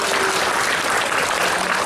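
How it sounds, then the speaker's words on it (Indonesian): Audience applause at a health talk in Denpasar, Bali, a dense, even roar of many hands clapping at once, loud and sustained without pause, with no voice over it. "Tepuk tangan untuk kita."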